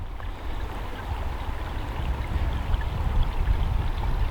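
A woodland brook in New Hampshire flows steadily beside an old stone fire hole, a close, continuous rushing and burbling of water that swells slightly louder toward the end, with no voices.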